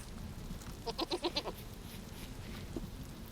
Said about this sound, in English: so that is a goat. It's just a different type of goat.